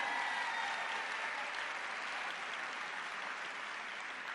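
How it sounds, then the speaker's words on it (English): A large audience at the NABE conference opening general session gives a sustained round of applause, fairly soft and distant, holding steady before tapering slightly. "You can give another round of applause."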